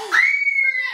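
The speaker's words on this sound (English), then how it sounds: "It's 2023 and my kids are screaming excited over toothpaste." Children shriek in high, sustained excitement over a toothpaste Christmas present, one long piercing scream rising loud and close.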